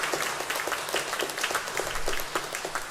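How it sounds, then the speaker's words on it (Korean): A church congregation at Sunday worship bursts into sustained applause, dense rapid clapping from many hands filling the room evenly, moderately loud and without speech. "우리에게 역사하시는 주님께 영광의 박수 올려드리겠습니다."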